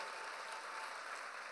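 Audience applause fills a Berlin theatre during the BVG musical at the Admiralspalast: a steady, dense wash of clapping that stays even and fairly soft throughout, with no voices over it.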